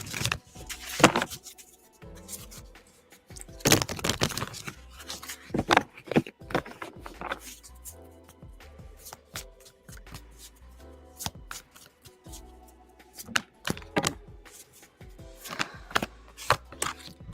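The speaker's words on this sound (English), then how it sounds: "All right, Aditi, let's shuffle for you real quick." Tarot cards are shuffled by hand in bursts of crisp riffling and slapping, close up, separated by short pauses with no talking.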